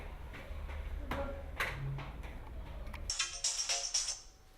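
A telephone rings in a riad in Marrakech: a few indoor clicks and knocks, then a near, repeating electronic ring in short pulsed bursts toward the end.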